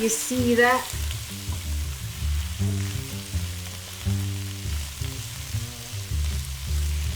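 Garlic shrimp sizzling and frying in a pan while being stirred, a steady loud crackle with scraping stir noises, and background music playing throughout.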